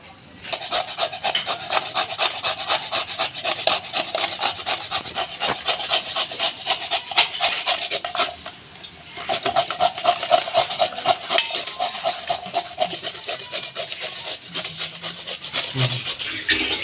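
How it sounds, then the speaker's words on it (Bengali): Raw papaya is rubbed against a metal grater in a home kitchen, giving a fast, regular rasping stroke after stroke, loud and close, with a brief pause partway through before the scraping resumes. "পেঁপেটা গ্রেট করে নিয়েছি দেখো একদম পুরো বাঁধাকপির মতন ঘষে নিয়েছি"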